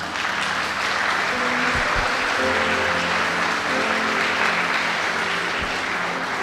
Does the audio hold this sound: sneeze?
no